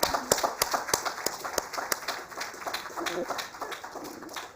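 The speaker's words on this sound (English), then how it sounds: "Please continue giving a big round of applause." Audience applause at an award ceremony, with crowd clapping ringing out in a steady patter of sharp claps over the full stretch and no talk.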